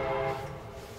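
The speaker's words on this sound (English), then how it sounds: "Sorry for the train in the background" Low rumbling train noise with a faint sustained horn-like tone, steady and distant under a quiet background for about a second.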